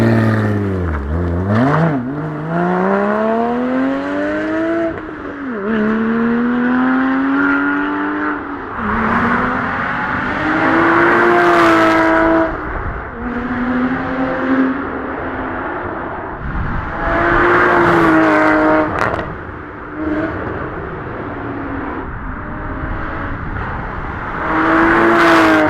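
Porsche Cayman 981 GT4 sports car revving hard and accelerating away through repeated gear changes, its engine note climbing in several surging pulls before fading, loud and near at first then receding.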